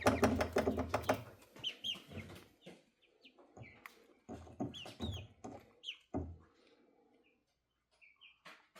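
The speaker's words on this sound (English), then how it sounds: "I know chickens can be smart" Several chickens cluck and chirp in scattered bursts, close by, with someone talking briefly among them and quiet pauses between calls.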